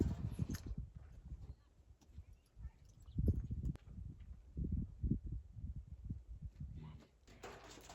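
A horse's hooves clop slowly and unevenly on a hard floor at moderate distance, with a person speaking softly over the steps.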